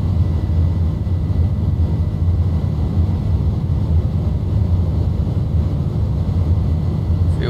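An airliner accelerates down the runway on its takeoff roll in Microsoft Flight Simulator, Oman Air, a loud, steady low engine roar and rumble that holds constant throughout.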